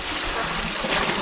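Water splashes and pours steadily into a pan while a spicy egg fry is cooked outdoors in a village; a brief, close, broadband rush with no talk over it.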